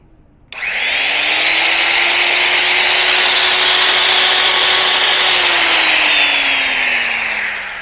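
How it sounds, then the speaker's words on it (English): A router switches on with a sharp start and spins up to a loud, steady high whine, powered from a Leesky 1500 watt pure sine wave inverter, running alone close by for several seconds before beginning to wind down. "Let's try a router."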